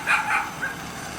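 A dog, not the owner's, barks two or three quick, fairly close yips in a workshop where HDPE plastic is being melted into knobs, with a steady background hum and no talk.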